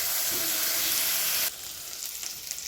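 Spice masala fries in a pan for a home-cooked fish dish, a loud, steady sizzle that drops sharply to a quieter crackle halfway through.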